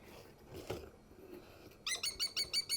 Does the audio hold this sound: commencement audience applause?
no